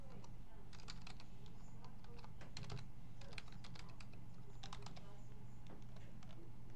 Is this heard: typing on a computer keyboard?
yes